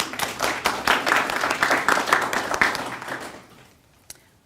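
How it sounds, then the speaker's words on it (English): A school public speaking contest audience gives a round of applause, dense, fairly close claps that rise, hold, then taper off to a few last claps. "I would like for you to join me in a round of applause for our teachers"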